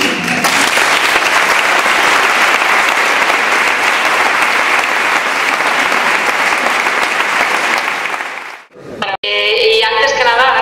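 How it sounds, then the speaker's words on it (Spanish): An audience applauds in a hall at a forum at the Ateneo de Madrid, with steady dense clapping for about eight seconds before it fades out and a speaker begins talking. "gracias por ese aplauso que me habéis dado"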